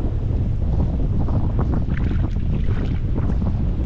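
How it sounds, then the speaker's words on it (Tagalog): Strong wind gusting across open rice paddy ground, a steady loud roar buffeting the microphone with no talking. "malakas ang hangin"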